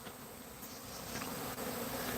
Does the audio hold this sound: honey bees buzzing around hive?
yes